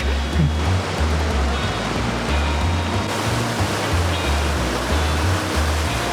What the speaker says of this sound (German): Wasserfälle. Da hinten auch.